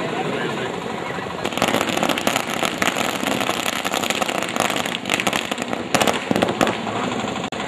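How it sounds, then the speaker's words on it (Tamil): Dense, continuous crackling of firecrackers bursting at the opening ceremony of a school district sports competition, loud and rapid-fire throughout, with a torch procession on an outdoor ground and faint crowd noise beneath. "பட்டாசு ஒலியோடு"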